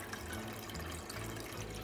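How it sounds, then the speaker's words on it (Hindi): Homemade paneer, made from cream curdled with citric acid, gets rinsed with running water in a cloth, giving a steady close splashing and flowing wash with no talking. "पानी से फिर से धो लेंगे"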